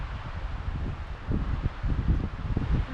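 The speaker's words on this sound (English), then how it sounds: "where did this wind come from, man? That's not cool." Wind gusting and rustling leaves in the Maine woods along the 100 Mile Wilderness trail, a steady close roar with rising, uneven bursts and no voices.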